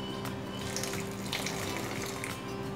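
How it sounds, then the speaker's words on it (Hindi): Water streams into a bowl of flour mixture while making aloo kachori dough. The pour is a steady, close, running gush like a tap, continuous for the whole stretch with no talking. "यहाँ पे मैंने हाफ बाउल अभी पानी डाला है।"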